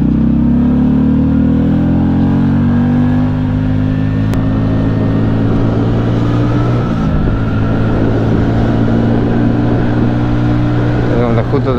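A Keeway V Cruise 125 motorcycle cruises along a highway with a steady, droning engine tone under heavy wind rush. The engine pitch dips briefly partway through, then holds level and loud.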